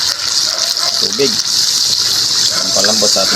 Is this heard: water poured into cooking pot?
yes